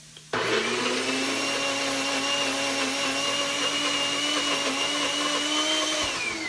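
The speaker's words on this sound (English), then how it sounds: "I'll go ahead and set this in the NutriBullet so I can puree my black beans" A NutriBullet blender kicks on abruptly and runs with a loud, steady motor whine, pureeing black beans continuously until it cuts off at the end.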